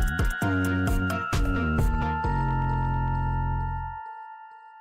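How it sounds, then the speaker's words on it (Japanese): The bell at Kouri Ocean Tower on Kouri Island is struck several times in quick succession, bright metallic clangs overlapping, then left to ring out in a long fading hum. "観光スポット古宇利オーシャンタワーの鐘を鳴らす動画をアップした"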